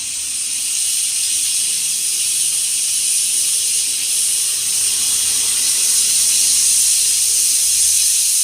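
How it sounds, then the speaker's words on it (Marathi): A pressure cooker on full gas, cooking carrots for halwa, vents steam in a loud, continuous hiss that stays nearly constant throughout, with no voices. "आता कुकर लावून मी 1-2 शिट्ट्या घेते."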